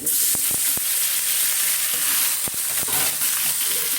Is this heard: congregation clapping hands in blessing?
no